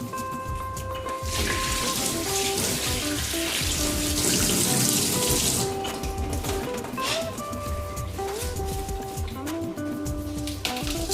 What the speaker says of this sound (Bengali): আমি লেমন গ্রাসগুলো ধুয়ে নিছি, এগুলো এভাবে ইউজ করে নেব।